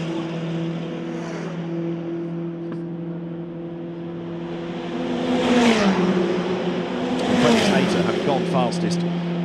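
FIA Formula Regional race cars lap the Macau Grand Prix street circuit in free practice, engines droning steadily with rising whine and a louder pass later, under continuous commentary.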